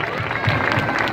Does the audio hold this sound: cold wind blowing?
no